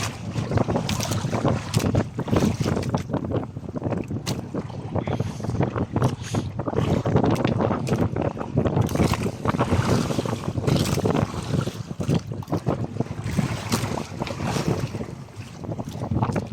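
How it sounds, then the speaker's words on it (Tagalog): Strong wind roars steadily into the microphone over churning sea and big breaking waves, loud and continuous throughout. "Ang lalaki ng alon."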